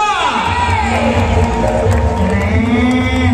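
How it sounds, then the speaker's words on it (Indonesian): Large crowd at a mass wedding ceremony in a sports hall, cheering and shouting with whoops over a dense roar of voices, sustained and loud throughout. "mana tepuk tangan untuk kita semua."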